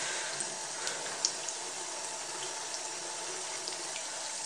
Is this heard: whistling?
no